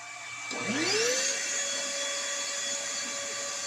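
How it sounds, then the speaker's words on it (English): A vacuum cleaner powered from an off-grid 48-volt battery setup starts up with a rising whine that settles into a loud, steady motor drone. "That's the vacuum pulling 15 amps."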